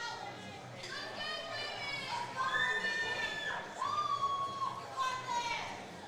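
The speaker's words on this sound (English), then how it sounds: "She's got her team cheering for her in the background here" Teammates cheering and shouting encouragement for a lifter at a student and university bench press championship, excited high voices rising in bursts over a busy hall murmur, heard from a distance.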